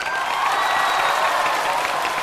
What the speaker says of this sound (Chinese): 谢谢大家的热情的掌声